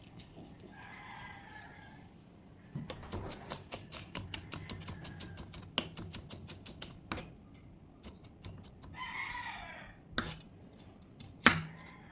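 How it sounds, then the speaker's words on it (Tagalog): Garlic and onion being chopped on a board: a fast run of sharp knife strikes, then scattered chops, with a rooster crowing faintly in the background. "Magiwa tayo ng bawang at saka sibuyas."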